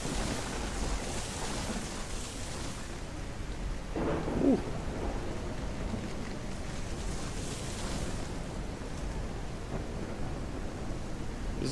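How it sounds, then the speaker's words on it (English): A thunderstorm in the railroad video game RailRoads Online brings steady rain and rolling rumbles of thunder, with a sharper crack near the middle, heard alone. "There we go, a little more crack in the lightning there."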